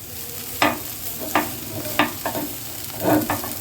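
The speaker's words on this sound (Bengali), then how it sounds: "আমি এই গ্রেট করা গাজরটা আমি ঘিয়ের মধ্যে এইভাবে নেড়ে নেড়ে আমি এটাকে এইভাবে করে নেব" Grated carrot stirred in ghee in a pan for carrot kheer, with a soft frying hiss underneath and several distinct scraping strokes of the spoon in an irregular rhythm, close and moderately loud, with no talking.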